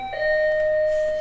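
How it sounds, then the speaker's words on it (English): An apartment doorbell in Japan rings with a single clear electronic chime, two sustained tones sounding close and loud over about a second with no talking. "that is our doorbell."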